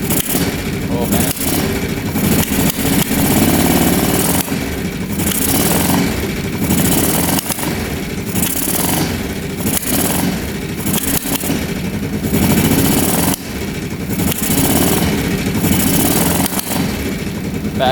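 An ATV engine runs loud and close, revving and rumbling roughly with irregular pops as it backfires and a timing fault is suspected, while people talk over it.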